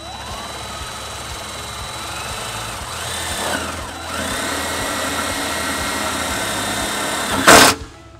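A power drill drives a self-tapping screw into a 2022-2024 Kia EV6, whirring steadily for several seconds, its motor pitch rising and dipping, with a short, louder grinding burst near the end.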